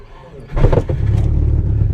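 1999 Subaru 2.5 RS coupe engine cranking and catching, then settling into a loud, rough, low rumbling idle, recorded up close.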